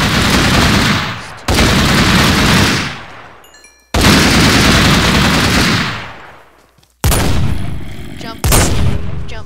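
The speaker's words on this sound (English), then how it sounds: "Explosive ammo. It's a bazooka sniper rifle." An explosive bazooka sniper rifle from Minecraft's Flan's Mod fires three loud, booming blasts, each followed by a long rumbling decay, then a couple of shorter sharp bangs near the end.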